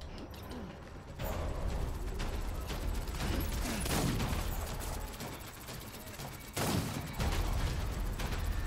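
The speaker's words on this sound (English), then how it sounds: "Oh, they threw a grenade." Grenade blast and bursts of gunfire in the Death Stranding video game, a dense, loud barrage of explosive cracks and rattling fire running continuously, with a sharp surge near the end.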